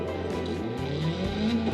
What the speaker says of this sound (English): I love the way it sounds though.